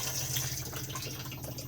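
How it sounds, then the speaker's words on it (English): A Thetford cassette toilet in a Lunar Roadstar motorhome flushes, giving a steady close rush of running water with a low hum beneath and no voices. "push to flush on the blue button,"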